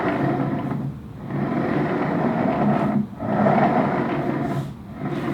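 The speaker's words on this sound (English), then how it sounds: "So on this side we have the original Hydrow," Original Hydrow rowing machine with its seat gliding back and forth, a steady low rushing whoosh that swells and dips in a regular stroke rhythm, with no talking.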